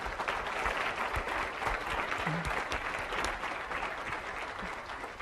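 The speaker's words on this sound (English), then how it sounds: "give you a round of applause too" Sustained audience applause fills a speaker-series hall at a lecture event, steady dense clapping for about five seconds with a few louder claps standing out.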